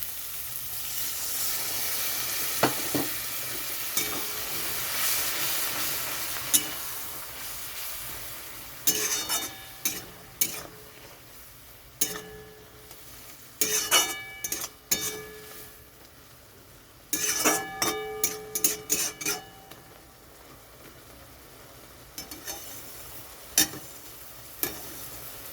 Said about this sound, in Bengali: এখন এখানে দিয়ে দিচ্ছি একটু জল।